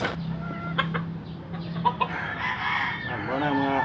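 A rooster on a farm gives several short clucks, then lets out a drawn-out crow near the end, fairly close and moderately loud, with faint background voices.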